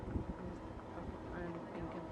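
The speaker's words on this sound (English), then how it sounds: "It's very windy and cold." Cold wind gusting across a mountain top at Sandia Peak near Albuquerque, New Mexico, roaring steadily and buffeting the microphone close up, with faint voices underneath.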